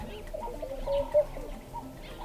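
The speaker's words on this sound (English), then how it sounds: "I get an opportunity to film a laughing dove. If you listen carefully here, you can hear its call" A laughing dove calls outdoors, soft bubbling coos rising and falling over a quiet background, with one slightly louder note mid-phrase.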